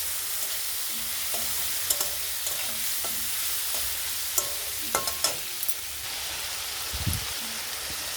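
Potatoes frying with spices in a pan give a steady bright sizzle throughout, with occasional clinks and stirring scrapes of a utensil, close and continuous.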